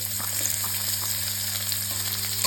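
Chopped onions fry in olive oil with a cumin and dried chilli tempering, a close, even sizzling hiss with faint crackles and light stirring, steady throughout with a low background hum and no speech.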